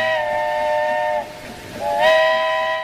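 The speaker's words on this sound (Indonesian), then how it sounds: "Wih, kereta api uap." A toy steam train whistle sounds loudly in two sustained, harmonic toots separated by a short pause, with a breathy hiss behind it.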